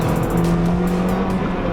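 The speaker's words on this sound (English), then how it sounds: "listen to the beautiful noise of Fiat 500 Abarth" A Fiat 500 Abarth engine accelerates on a drive with other Fiats, giving a brief, loud, rising revving rasp with some road noise and no talking.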